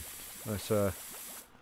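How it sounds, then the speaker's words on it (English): A pressure washer sprays a fire house in PowerWash Simulator, giving a steady hiss beneath a brief spoken word before cutting off abruptly near the end. "just give that a little spray."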